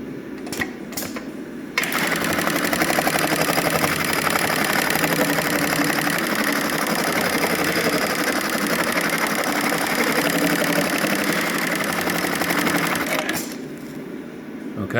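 Industrial sewing machine with a stepper foot stitching through foam, a loud, continuous rapid mechanical chatter lasting over ten seconds, very close, starting abruptly and winding down at the end.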